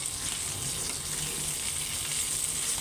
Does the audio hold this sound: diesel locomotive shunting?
no